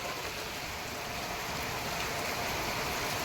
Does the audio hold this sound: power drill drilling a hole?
no